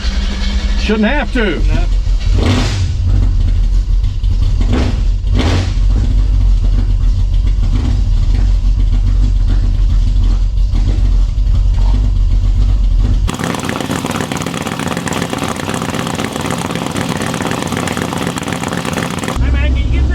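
A race truck engine cranks and catches, then idles with a deep rumble and revs up into a loud sustained roar before dropping back, while people talk nearby.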